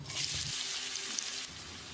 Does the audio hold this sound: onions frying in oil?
yes